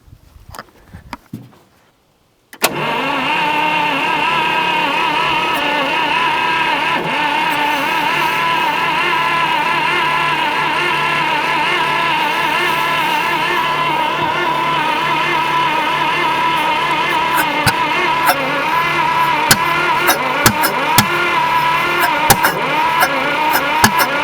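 A 1950 Buick Special engine that sat for 55 years is cranked and starts, with its firing order set wrong so it sparks back through the carburetor. After a brief quiet start, a loud, steady, uneven running drone continues to the end.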